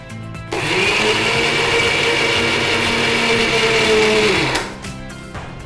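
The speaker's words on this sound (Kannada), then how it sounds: "ಈಗ ಇದನ್ನು ಒಂದು ತರಿಯಾಗಿ ಒಂದು ಗ್ರೈಂಡ್ ಮಾಡಿಕೊಳ್ಳಿ." A kitchen grinder coarsely grinding pumpkin chutney ingredients whirs loudly and steadily for about four seconds, starting abruptly and winding down at the end, with no talking.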